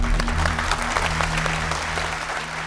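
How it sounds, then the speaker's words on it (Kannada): A studio audience claps steadily on a game show set, with a sustained wash of applause running under a low background hum throughout. "ಡಾಕ್ಟರ್ ಜೋರಾಗಿ ಚಪ್ಪಾಳೆ"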